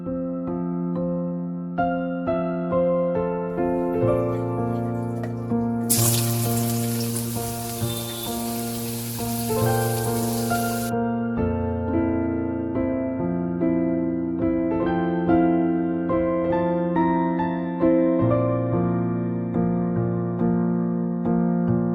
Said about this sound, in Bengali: এই যে পনিরটা আমি ভেজে নিচ্ছি, একটু লাল লাল করে ভেজে নিচ্ছি